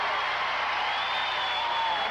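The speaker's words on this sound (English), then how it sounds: "listen to the applause for some of the starters as they leave" Basketball crowd in an arena applauding starters as they leave a championship game, a steady wash of clapping and cheering that sounds distant and roomy, with no voices standing out.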